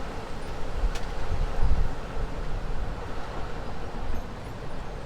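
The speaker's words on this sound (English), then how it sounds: "You can't hear nothing but the wind, right?" Wind gusts buffet an outdoor microphone, a steady low roar that swells into a stronger gust around the middle, with no talk over it.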